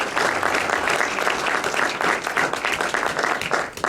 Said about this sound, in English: Let's give a big round of applause to Benni Diez.